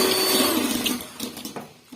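Electric mixer whirring as it spins to beat a batter, a loud close motor drone that wavers and fades toward the end of a short burst.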